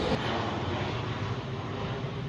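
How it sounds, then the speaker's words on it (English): An airplane passes overhead under a beautiful open sky, a steady, broad, distant engine roar with a faint whine on top, continuous throughout with no talking. "Airplane."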